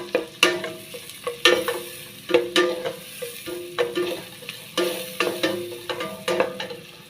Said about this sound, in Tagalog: I-brown lang natin yung garlic.